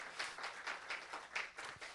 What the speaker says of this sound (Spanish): Dale un aplauso al Señor. Fuerte ese aplauso